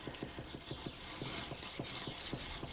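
Wet sanding along a steel fillet knife blade with water on the surface gives a rhythmic rasping scrape, roughly a dozen quick even strokes, soft but close, with no talking.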